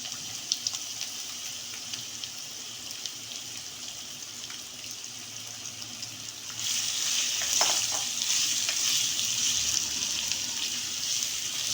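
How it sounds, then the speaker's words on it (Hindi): Thin slices of raw mango for a pickle dropped into hot oil, a soft steady sizzle that swells louder partway through and keeps frying. "अब हम इसमें कैरी ऐड कर देंगे।"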